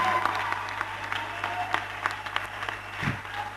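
A church congregation applauding in praise of the Lord, steady sustained clapping throughout with a low hum underneath and a brief voice near the end.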